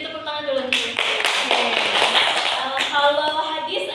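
Classroom audience clapping during a religious lesson, a burst of quick overlapping handclaps lasting several seconds, close and fairly loud, with voices mixed in.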